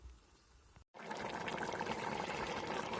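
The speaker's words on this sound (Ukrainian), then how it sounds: "Закидаємо у киплячу воду наші баклажанчики і варимо рівно 5 хвилин." Eggplants dropped into a pot of boiling water: after a quiet start and a brief gap, a steady, fairly loud bubbling and splashing churn carries on to the end.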